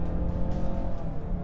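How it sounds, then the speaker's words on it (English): A Mazda CX-9 in sport mode pulls hard under acceleration, a brief, dense burst of engine growl with a raspy, buzzing edge. "the engine is a lot raspier"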